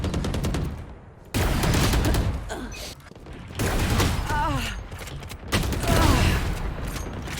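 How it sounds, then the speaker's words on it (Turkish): Rapid, loud gunfire in the video game Valorant bursts repeatedly in close, dense volleys separated by brief lulls, with a player's voice talking over the shooting. "sağdan gelip biri vuracak dememe kalmadı vurdu zaten"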